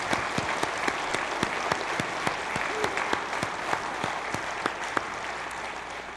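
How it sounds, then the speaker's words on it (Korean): Church congregation at a New Year worship service applauding in unison, sharp rhythmic claps repeating evenly over a quieter bed of scattered clapping, moderately distant. "우리 이길 힘 주시는 하나님께 감사와 영광의 박수 드립시다"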